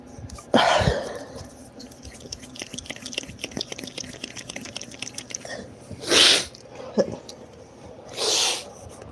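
A sharp, close sneeze bursts out near the start, followed by quiet shuffling and two softer breathy bursts later on.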